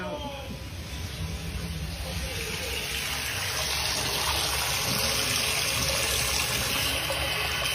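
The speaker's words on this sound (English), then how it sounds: "Probably wants to take a leak after hearing the taps running. Water's on." A water tap runs full, giving a steady rushing hiss that holds evenly and close throughout, with no break or change.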